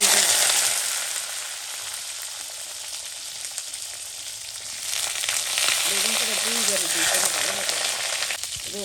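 Oil heating in a hot kadai before eggplant is fried, a steady close hiss that swells midway, while a voice speaks over it.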